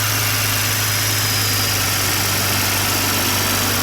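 A 2020 Toyota Supra engine idles steadily in its engine bay, giving a smooth, constant low hum with a faint vibration and no voices.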